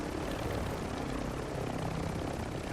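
A rival helicopter in a video game passes with a steady, loud rotor and engine drone that fills the whole stretch, with no talking.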